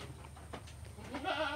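A single goat, a young male bought as a feeder, bleats close by with a wavering, nasal cry near the end, over quiet background noise in a backyard setting.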